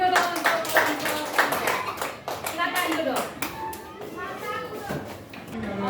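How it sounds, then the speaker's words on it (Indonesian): A school class claps hands for a few seconds, dense overlapping claps with some voices mixed in, moderately loud and close, in a classroom. "Oke, kita tepuk tangan"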